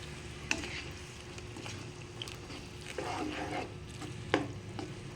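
Pasta being stirred in a pan, a steady soft sizzle of frying with occasional scraping clinks of the utensil against the pan, close and without talk.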